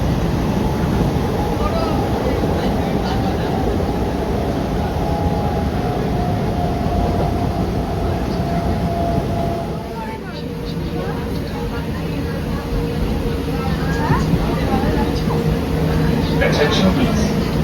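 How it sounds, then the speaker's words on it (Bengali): A train pulls into a station with a continuous low rumble and rolling wheel noise, faint tonal squeals and hums rising and falling over it, and people talking throughout. "আমাদের ট্রেন চলে আসে"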